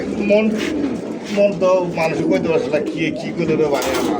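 Young pigeons of a Python bloodline cooing in a loft, repeated soft throaty coos close by, heard beneath someone talking.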